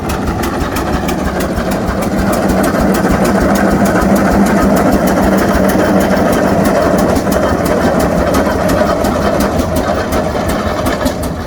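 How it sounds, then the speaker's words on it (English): A single-cylinder stationary engine running at an outdoor yard show of old equipment, a loud, steady rapid chugging beat that continues without pause, close up with crowd ambience and no clear talk. "this is a single cylinder engine too"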